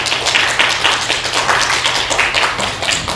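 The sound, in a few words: audience clapping to welcome the speaker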